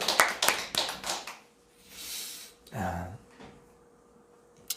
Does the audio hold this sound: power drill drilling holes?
no